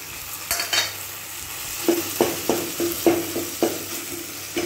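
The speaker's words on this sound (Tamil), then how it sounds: "இதுக்கப்புறம் நம்ம சுட்டு வச்ச கத்திரிக்காயை எடுத்து இதில் போட்டு வணக்கிக்கலாம்" Roasted eggplant sautéing with onion and tomato for a chutney, a steady sizzle broken by a string of sharp spatula scrapes and stirring knocks in a regular rhythm, close and fairly loud, with no one talking.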